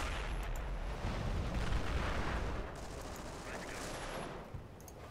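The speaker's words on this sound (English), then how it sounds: "There's a mortar shooting your base." Mortar fire in the Company of Heroes strategy game, set in the Battle of the Bulge, a rolling mix of booms and rapid gunfire crackle, dense and fairly loud throughout, easing slightly in the second half.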